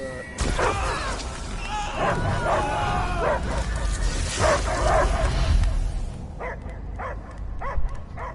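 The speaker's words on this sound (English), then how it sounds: "I hear only barking" A dog in the video game Guardians of the Galaxy barks and yips several times in quick bursts over a rumbling, busy backdrop, with people talking partway through.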